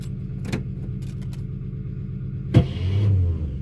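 A Chevrolet Bel Air on a cold start: a short jangle of keys, then a sharp click and a brief starter crank with the engine turning over low and rough for about a second, close by.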